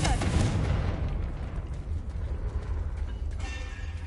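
A Confringo fire curse bursts in Hogwarts Legacy with a loud booming blast at the start, its rumbling roar fading away through the rest of the moment.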